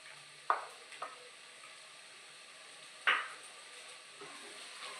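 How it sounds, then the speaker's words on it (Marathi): Ground chickpea paste is sautéed in oil in a pan for chhole, with a few distinct spoon scrapes and stirs standing out over a faint, low sizzle. "चांगलं तेल सुटेस तोपर्यंत परतून घ्यायचं"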